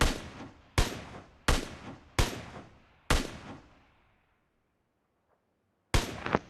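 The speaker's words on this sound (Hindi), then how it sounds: "तो एसकेएस निकालता हूँ और 4x तो लगा ही है एसकेएस में, तो उसके धड़ाई धड़ में भरता हूँ गोलियाँ।" Six loud, sharp SKS rifle shots in PUBG, the first five fired in quick succession with decaying tails, then a pause of near silence before a final shot.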